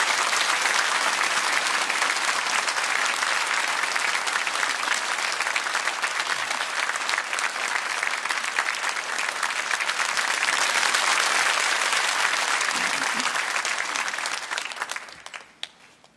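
A church congregation gives sustained loud applause to welcome a visiting pastor, a dense even clapping that holds steady for many seconds before tapering off at the end.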